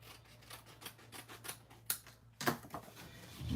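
Scissors trim stamped card paper in a quiet room, giving a series of soft, quick snipping cuts with a couple of sharper crisp snips near the end. The cuts are close but faint.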